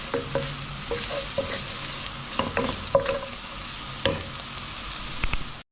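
Fried onions with turmeric powder are stirred in a pan, a steady sizzle with repeated scraping and clinking strokes of the spoon at an irregular pace, close up and without speech.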